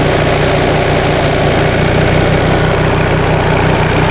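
A 1945 Onan generator engine runs steady and loud nearby, its droning mechanical hum holding an even pitch throughout with no clear climb in speed.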